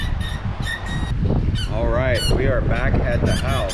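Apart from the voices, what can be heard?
squeaky dog toy squeaking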